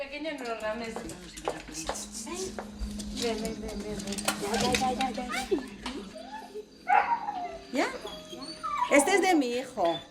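A small dog yaps and whimpers amid clattering dishes and cutlery, with people talking over the commotion.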